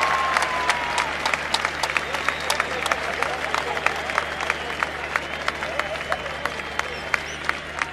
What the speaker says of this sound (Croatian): Aplauzi na Banja Iliđi